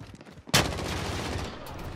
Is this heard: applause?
no